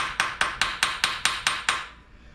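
A small hammer taps on a Stingray Corvette, seven evenly spaced sharp metallic knocks close up, each ringing briefly before the next, then quiet.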